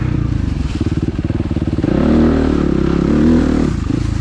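A motorcycle with a rebuilt Rekluse auto clutch runs on a trail. The engine gives a loud, close, rhythmic thumping idle that swells slightly midway and stays steady throughout.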